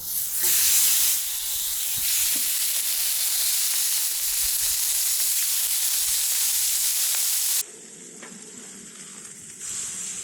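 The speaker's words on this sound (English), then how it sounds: "So let's get these steaks onto this ripping hot grill." Steaks sizzle loudly on a very hot grill, a dense, steady hiss and crackle close by that drops off abruptly near the end, leaving quieter, fainter sizzling.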